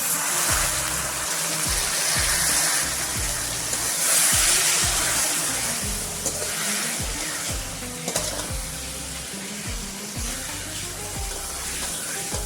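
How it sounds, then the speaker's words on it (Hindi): Water pours in a steady, continuous stream into a cooking pan of spiced masoor dal with turmeric, chilli powder and salt, with faint sizzling underneath. "थोड़ा सा पानी ऐड कर देंगे।"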